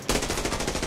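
A rapid burst of M4A1 rifle fire in the shooter game Arena Breakout, roughly a dozen sharp shots in quick automatic succession, loud and close.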